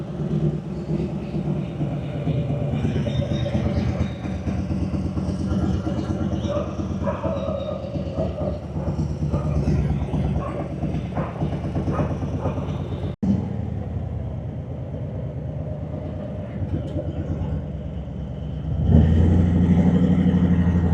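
A 2024 Harley-Davidson Fat Boy 114 rumbles on a morning ride in Punjab, India, its deep V-twin engine droning steadily with wind noise, a brief sharp knock, and the throttle rising near the end while a rider talks over it.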